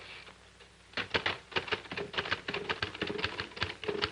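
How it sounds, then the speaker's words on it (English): An old manual typewriter is struck key by key in an office, the irregular sharp clacks coming slowly and close, with no talking over them. "Patricia, sit down at the typewriter a minute. Type, now is the time for all good men. But slowly."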